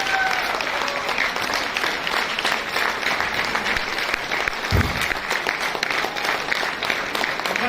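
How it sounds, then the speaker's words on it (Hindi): Loud, sustained audience applause at a Modicare training event, dense hand-clapping rolling on steadily from start to finish, with faint crowd murmur and a brief voice mixed in. "जिब्रान जी के लिए जोरदार तालियां और अमित जी के लिए जोरदार तालियां।"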